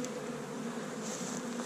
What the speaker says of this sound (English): there's bees everywhere.